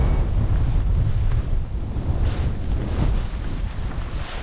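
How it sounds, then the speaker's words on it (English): Strong wind buffeting and roaring past the microphone during a paraglider flight on an Air Design Susi wing, a loud continuous low rumble with gusty swells and no voices. "Oh, the wind's picked up a bit."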